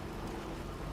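Steady rain in the video game Death Stranding 2, a continuous broadband hiss of falling water, even and unbroken over a short stretch, with no voices.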